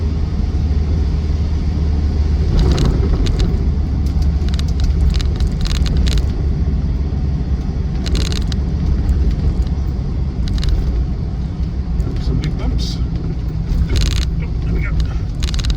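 A highly modified Land Rover Defender 110 2.2 TDCi XS on tall tyres drives with a steady low engine and road rumble throughout, and someone talks over it.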